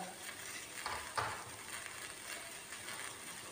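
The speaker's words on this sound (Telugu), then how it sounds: "ఇప్పుడు మనము ఎర్రగడ్డలు వేసుకుందామండి" Onions fry in a pan with a steady, soft, hissing sizzle, close but quiet and continuous, with a few faint stirring scrapes and no talk.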